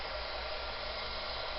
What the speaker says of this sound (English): When you emboss, you want to make sure your embossing gun is really hot.